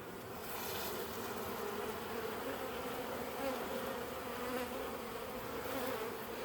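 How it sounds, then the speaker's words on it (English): Honeybee foragers buzz in a dense, steady drone in front of a hive, many wings blending into one continuous hum at close range with no pauses. "It may just been foragers backed up where I was standing in front of the hive too."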